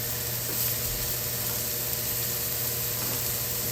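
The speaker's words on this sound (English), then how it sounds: "Love that sizzle" Burgers frying in a hot pan give off a steady, dense sizzle, close and constant with a faint hiss of steam throughout, no voices over it.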